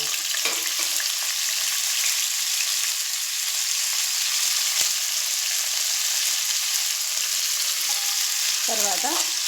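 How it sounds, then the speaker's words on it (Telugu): Cauliflower (gobi) pieces sizzling and frying in hot oil, a loud, dense, steady crackle close up, with a few light utensil clinks near the end. "ఆయిల్ హీట్ అయిన తర్వాత మనం గోపి ఎత్తి వేసుకోవాలి"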